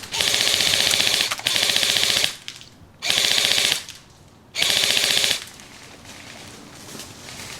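Rapid automatic gunfire comes in three long sustained bursts separated by brief pauses, loud and harsh with a fast rattling rhythm, during a firefight with no talking.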